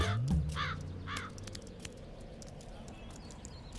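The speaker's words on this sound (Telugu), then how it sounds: "హే, కాకొచ్చింది." A crow caws loudly and close by, two or three harsh calls in quick succession, and then a continuous outdoor background noise takes over.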